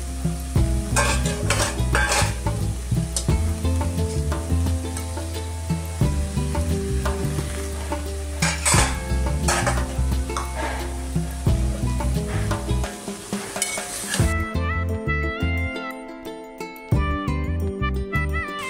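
Vegetables for a traditional Bhogi bhaji stirred in a hot pan, with a loud continuous sizzle and repeated scraping of the spoon against the pan, close by and steady throughout; no talk.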